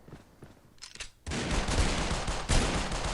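Sustained automatic AK rifle fire in the mobile shooter Critical Ops, a loud dense burst running continuously after a few quieter scattered shots and steps.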